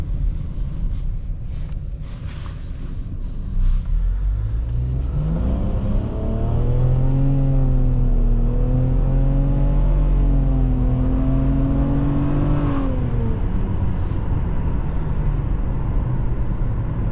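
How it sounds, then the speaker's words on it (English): A 2022 Nissan Rogue Platinum with a 1.5L turbo engine revs up strongly from idle, the pitch climbing and holding high for several seconds before settling, loud and close inside the cabin. "the engine will rev out, you have a lot of power up top"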